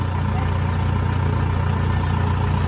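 A Kubota L5018SP tractor engine idling steadily nearby in a rice field, a constant low rumble with no change in pitch throughout.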